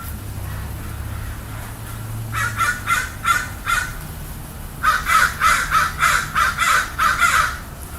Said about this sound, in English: Crows are so weird, dude.